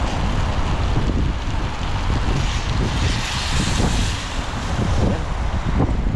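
Steady, loud wind roars across the microphone with constant broadband rushing and buffeting, no pauses, filling the whole stretch.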